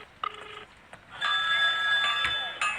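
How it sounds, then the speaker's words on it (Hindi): A telephone rings in a tense indoor scene from a Hindi crime thriller film, its electronic trill repeating steadily over a low background bed, fairly close and clear. "जब हमने इरफान के फोन से किसी पिंटो गैरेज को फोन किया।"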